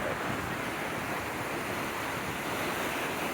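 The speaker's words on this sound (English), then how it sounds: "That water is moving fast." Floodwater of the Brisbane river during the 2022 floods rushes past fast with debris, heard as a loud, constant broadband roar mixed with wind buffeting, no speech.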